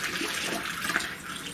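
Distilled water splashes and gurgles steadily from a watering can into the coolant tank of a Thunder Laser Nova 35 100 watt laser cutter, a brief close continuous pour with no talking.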